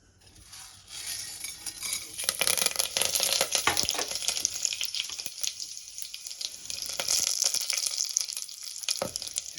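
Tempering spices dropped into hot oil over a lowered gas flame for South Indian tomato rice, giving a loud, steady crackling sizzle that rises after the first second and continues with stirring and occasional utensil clinks.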